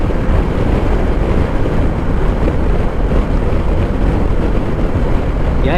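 Strong wind buffeting a rider on a Honda Rebel 1100 motorcycle along country roads, a steady loud low roar filling the whole clip without a break.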